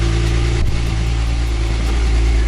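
A flood-damaged Porsche 911 Turbo S engine runs steadily at a loud, close idle, a constant low drone with one brief knock early on, no talk.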